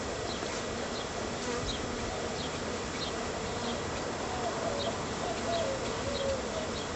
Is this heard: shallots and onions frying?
no